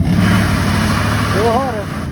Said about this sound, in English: push on the gas as you hold the brake to get the tires to spin